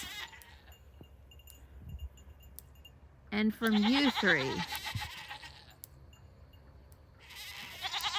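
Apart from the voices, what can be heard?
goats bleating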